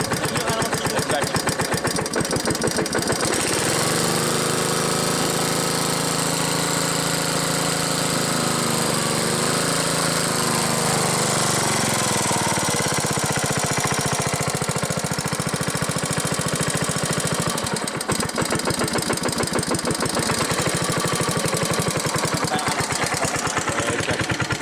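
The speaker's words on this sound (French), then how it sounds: "Tracteur. Elle claque." A tractor engine idles with a rough, knocking clatter, running loud and close without a break throughout, with occasional voices over it.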